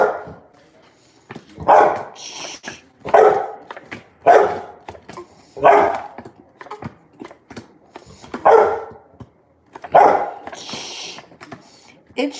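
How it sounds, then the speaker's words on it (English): A dog barks repeatedly indoors, about eight loud, close barks spaced roughly a second apart, with quiet gaps between them. "What are you barking at?"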